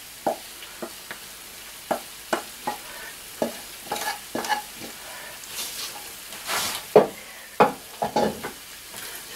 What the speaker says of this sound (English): And mix that in.